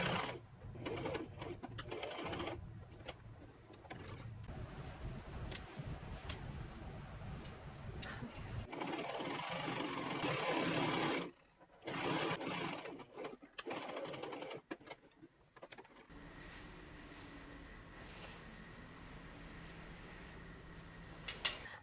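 A sewing machine stitches a pocket onto a flannel pinafore dress in steady bursts, its needle running in rapid rhythmic runs that stop and start as the fabric is turned, close and fairly quiet.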